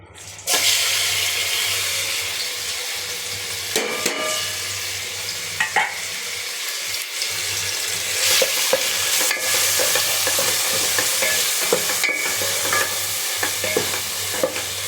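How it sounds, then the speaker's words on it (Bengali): Prawns frying in a pan give off a loud, continuous sizzle close by, with occasional scrapes and clinks of a utensil against the pan throughout. "চিংড়ি মাছগুলো ফ্রাই হোক।"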